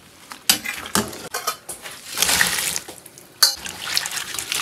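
Crayfish tails being rinsed by hand in a kitchen: close, uneven bursts of sloshing water with clattering against a pot or bowl, a longer splashy stretch in the middle, no talking.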